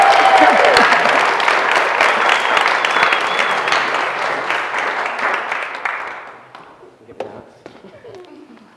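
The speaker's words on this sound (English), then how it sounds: "round of applause for our second speaker for the evening" Loud audience applause and cheering for a speaker at a live speaking challenge event in Manchester, strong at first, then tapering and fading out over several seconds into near quiet with a few stray sounds.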